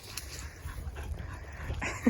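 A puppy whimpers and yips around adult dogs, a few soft, thin whines close by over a low background.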